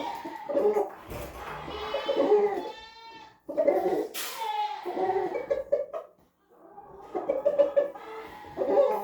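Chickens clucking around a farmyard, with bursts of fowl chatter and bleat-like calls coming in clustered bouts separated by short pauses, fairly close and clear.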